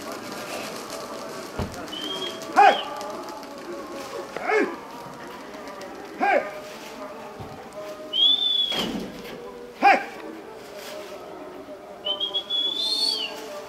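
Kostas's show pigeons at a fancy pigeon club event in Petra, heard as sharp whistles and flutters outdoors with distant street sounds, a few brief calls spread across the stretch.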